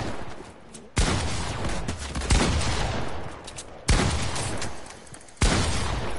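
Fortnite gunfire: three sharp, loud shots at roughly one-to-three-second intervals, each followed by a dense burst of rapid fire and game noise, with no voices over it.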